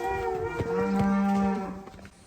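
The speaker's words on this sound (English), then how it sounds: "Just one cow to come." A single cow on a farm lets out one loud, close moo lasting over a second, rising and then trailing off, with no other voices around it.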